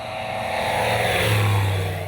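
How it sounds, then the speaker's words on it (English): A prototype light aircraft flies overhead with a steady, loud engine and propeller drone that swells slightly, heard alone. "Eventually, after a year of design and build, we got our prototype airborne."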